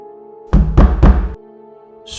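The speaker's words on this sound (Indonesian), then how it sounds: "Suara ketukan tiba-tiba terdengar di pintu kamarnya, keras namun perlahan-lahan" Three firm knocks strike a bedroom door in an otherwise quiet room, evenly spaced and close, with a faint steady hum underneath.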